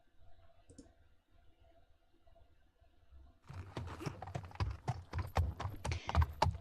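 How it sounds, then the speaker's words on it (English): Horse hooves clatter as a played sound effect, starting after a quiet stretch with a rapid, busy run of clip-clop strikes that stays fairly close and moderately loud until the end. "there's the sounds of horse hoofs clampering around you"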